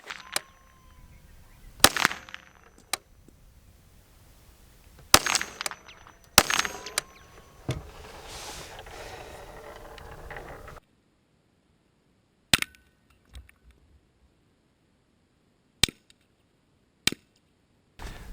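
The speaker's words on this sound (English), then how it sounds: "Let's go shoot this Tannerite." Rifle shots at a Tannerite explosive target on an outdoor range: a series of sharp, loud cracks and booms spaced several seconds apart, some followed by rumbling echo, with quiet gaps between.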